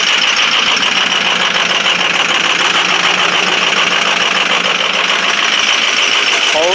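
A 2005 Ford 6.0 Powerstroke diesel idling after a cold start at 17°F with two bad injectors and misfiring cylinders, giving a loud, steady, close-up rattling clatter with a rapid ticking knock that continues throughout.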